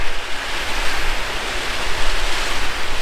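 Storm wind and rain lash a riverside camp at Haast Pass, a loud, steady, broadband roar with gusty swells and no pauses or voices.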